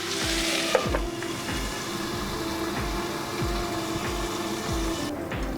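Spicy chicken fry simmers in a pan, giving a steady close sizzle with soft bubbling and a series of low rhythmic thumps from stirring, heard throughout with no talking.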